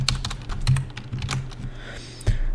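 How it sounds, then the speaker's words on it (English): Fast, steady typing of HTML code on a computer keyboard, a close run of rapid clicking keystrokes with a few heavier key hits. "I'll just speed up this part in the video so you don't have to watch me type the HTML out."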